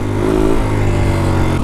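A 390 four-stroke supermoto motorcycle engine revs loudly and close by, a steady harmonic drone that climbs in pitch early and then holds high, alone without talk.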